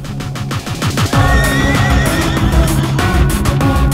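In a Hindi-dubbed action film, a horse gives a loud, drawn-out neigh that is mixed into a dense, busy soundtrack and rings out strongly for the whole moment.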